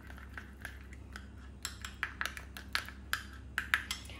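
Chicken being mixed with spices in a bowl, heard as a series of quiet, light clinks and taps of a utensil against the dish over a low background hum, growing a little busier toward the end.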